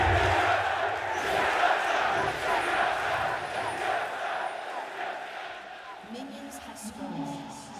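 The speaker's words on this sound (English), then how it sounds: "You can hear both these teams are crowd favorites." Arena crowd at the 2019 LCS Spring Finals League of Legends match between Team Liquid and Team Solo Mid roars and cheers steadily throughout, a broad sustained wash of noise with a caster talking over it.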